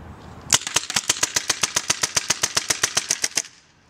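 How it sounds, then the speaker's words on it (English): Rap4 T68 paintball marker firing full auto from a box magazine, a sharp rapid burst of about twenty evenly spaced pops lasting roughly three seconds, close and loud before cutting off. "As you can see, while we're still shooting it, it'll continue to fire even though the Lok-Bolt's activated."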